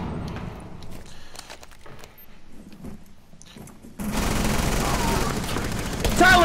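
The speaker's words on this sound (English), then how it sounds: "I shot you. I really just did." Video game gunfire comes as a scatter of sharp shots and quick bursts, then a louder, denser stretch of shooting and noise, with players talking over it.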